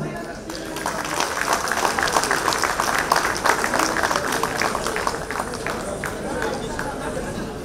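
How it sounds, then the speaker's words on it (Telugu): An audience applauding a dance troupe, from the Kinnera dance organisation, at an award ceremony, with steady, dense clapping from a crowd and a little murmuring mixed in. "ఆ నాట్య బృందాన్ని కీర్తిస్తూ చప్పట్ల సవ్వడితో వారిని మనసారా అభినందిద్దాం"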